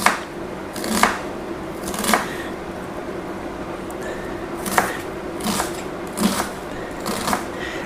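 A kitchen knife chops vegetables on a board for spaghetti bolognese, giving a series of irregular close knocks and slices, some in quick pairs, with no voices.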